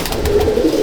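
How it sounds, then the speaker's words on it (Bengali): Pigeons in a loft at Halisahar cooing close and loud, a low steady rolling coo with a soft flutter at the start. "দেখুন ঠিক আছে বন্ধুরা, দেখুন পায়রা"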